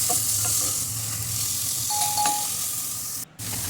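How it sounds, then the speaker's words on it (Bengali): Grated carrots fry in hot ghee for a carrot semolina halwa, giving a steady close sizzle with occasional stirring scrapes, a faint tonal chime near the middle and a brief drop in the noise near the end. "গাজরগুলো ভালো করে ভেজে নিতে হবে যাতে গাজরের কাঁচা ঘ্রাণটা বের হয়ে আসে।"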